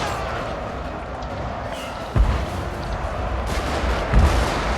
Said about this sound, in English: They just shot their own guys with their own artillery.